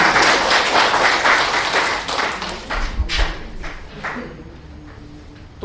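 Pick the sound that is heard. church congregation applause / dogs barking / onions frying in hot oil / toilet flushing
church congregation applause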